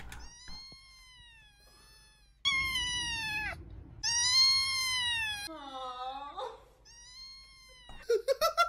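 A cat meows several times, close and clear, with long drawn-out wails and caterwauling calls. Short quick meows follow at the end, and a soft low rumble lies under some of the calls.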